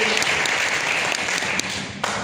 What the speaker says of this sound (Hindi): मैं चाहूंगा उनके लिए जबरदस्त तालियां होनी चाहिए